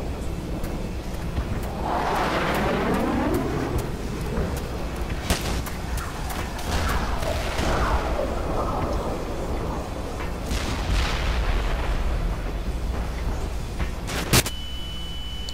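Tank shell explosions in the video game Black Mesa blast apart a shelter, several loud booming impacts with crumbling debris spread across the stretch, a sharp crack near the end.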